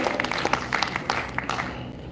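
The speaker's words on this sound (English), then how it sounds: "I would like to request you all to please applaud the participants for their work" Audience applause at a college law fest inauguration ceremony in a hall, a steady wash of many hands clapping with scattered sharper claps, continuous and moderately loud throughout.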